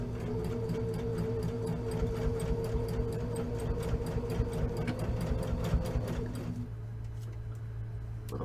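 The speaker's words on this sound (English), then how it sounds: "Little back stitch over my handle there." A sewing machine back stitches across a tote bag handle, running steadily with a fast, even mechanical ticking for several seconds before slowing and stopping, leaving a low hum.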